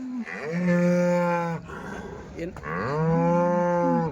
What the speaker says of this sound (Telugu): క్వాలిటీతో ఉన్న హెచ్ఎఫ్ జెర్సీ అయితే ఇక్కడికి చింతామణి సంతలో ఎక్కువ వస్తుంటాయి